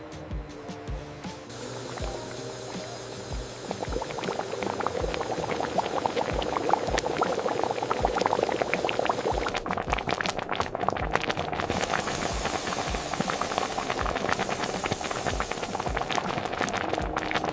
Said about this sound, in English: The pitted cherries are moved to giant kettles, where they meet sugar and begin to boil to create that famous topping.